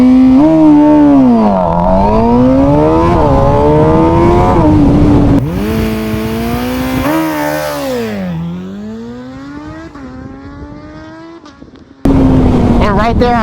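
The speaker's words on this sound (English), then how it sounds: "right there I shifted early so my wheel wouldn't come up" Motorcycle launching hard from a standstill, engine note climbing and dropping through several quick upshifts at a race-style start, loud and close with a brief cut near the end before the engine resumes.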